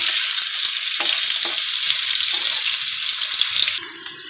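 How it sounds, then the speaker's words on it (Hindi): Boiled potatoes frying in hot oil give a loud, steady sizzle that runs close and continuous, then drops off abruptly near the end, leaving faint rattling. "तेल हमारा गर्म हो चुका है, जो हमारा आलू मैंने उबा किया था बॉयल, इसमें आलू को डाल देंगे। इसे हम अच्छे से फ्राई कर लेंगे आलू को"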